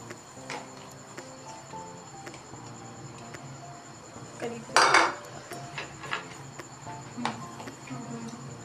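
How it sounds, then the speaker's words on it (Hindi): Boneless chicken pieces are moved into a bowl amid scattered clinks and clatters of utensils and dishes, with one louder scraping clatter partway through. The sounds are fairly quiet and close. "और हम इसको एक बॉल में ट्रांसफ़र करते हैं।"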